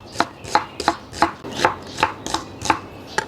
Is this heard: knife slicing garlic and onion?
yes